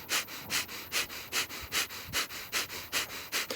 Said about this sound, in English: breathing fire breath just for 10 seconds